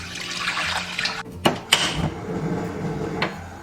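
Mung beans being washed in water, short sloshing and rinsing splashes with a couple of sharper clunks from the bowl, close and fairly loud, with no talking.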